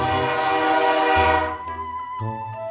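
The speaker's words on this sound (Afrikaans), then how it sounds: "trein" A train sounds a sustained harmonic horn blast that fades after about a second and a half, followed by quieter rumbling and a shorter tone.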